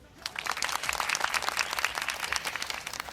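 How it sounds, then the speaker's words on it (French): Applause from a crowd celebrating Côte d'Ivoire's World Cup qualification after a match against Curaçao: steady, dense clapping at moderate distance, holding throughout with no voices over it. "Et ça s'applaudit."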